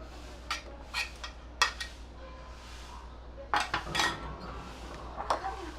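A spoon scrapes and knocks against the side of a metal pot in irregular strokes, stirring rice kheer, close by, over quiet background hum.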